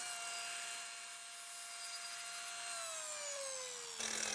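A power saw trims the end of a cedar board for a storage bench, its steady whine holding for about four seconds, dropping in pitch as the blade bites, then cutting off.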